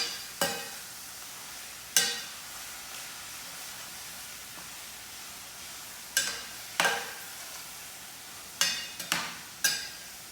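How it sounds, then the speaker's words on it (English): Thinly shaved food frying in a pan, a steady sizzling hiss punctuated by several sharp scrapes and knocks of a utensil stirring it, close by, with no talking. "as that is cooking and getting all nice and yummy and brown, we just want to keep stirring it"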